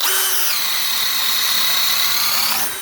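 A power drill fitted with a Harbor Freight Bauer spade bit bores into a thick, durable piece of wood. The close, loud, steady whine drops in pitch as the bit bites and rises again as it finishes.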